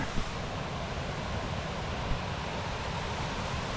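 Dense, continuous rushing water of the Fouillet stream near its waterfall in Ariège fills the scene evenly, with no voices.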